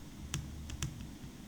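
Computer keyboard typing in a quiet room: a few crisp, separate key clicks spaced unevenly over a second and a half, close and faint, with no talking.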